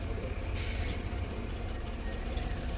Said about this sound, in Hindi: पीछे लो ट्रैक्टर आ रहा है